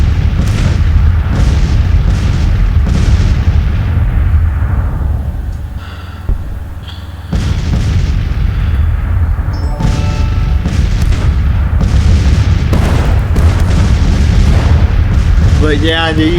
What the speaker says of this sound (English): artillery fire is just ferocious.